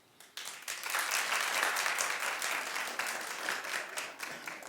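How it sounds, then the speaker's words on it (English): A studio audience breaks into applause on a talk show, the clapping starting abruptly after a brief quiet moment and holding as a full, steady wash for several seconds. "Clap if you think it should come back."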